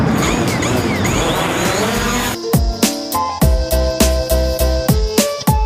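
A DJI Mavic Pro drone flies in strong wind: a few seconds of loud, rushing wind noise, then a steady high motor whine broken by repeated thumping gust bursts, close to the microphone.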